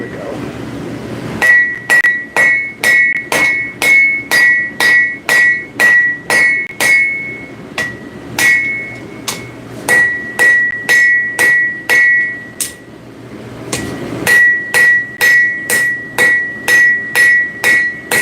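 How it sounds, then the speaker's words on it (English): A hammer strikes hot metal on an anvil, heated to around 2200–2400 degrees, in a steady run of sharp, ringing blows, about two per second, pausing twice before resuming; the strikes are loud and close. "Make sure you're forging it back down flat."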